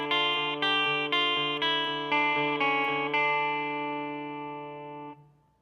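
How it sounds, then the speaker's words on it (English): A guitar plays a D harmonic minor melody, each scale note alternating with the open fourth-string D as a pedal tone, in steady repeated plucks that ring on and fade out at the end; close and clear with no voice. "playing up and down the D harmonic minor scale. And after every scale degree, you play the fourth string D open"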